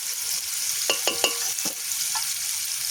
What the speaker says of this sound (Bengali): আমি এই যে আলুগুলো ভাজা দিয়ে দিচ্ছি